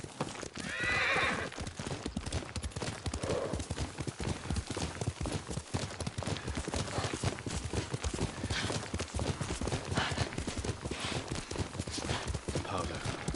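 A horse gallops with rapid continuous hoofbeats and lets out a loud neigh in the video game Ghost of Tsushima, the clip-clop rhythm running steadily underneath with some voices.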